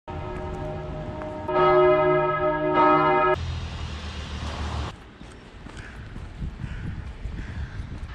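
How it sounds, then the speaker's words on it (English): A church bell in Kassel, Germany rings out in a few strong, resonant strikes with long ringing tails, then gives way to street noise with hoof-like clopping and passing traffic. "They rang the bell."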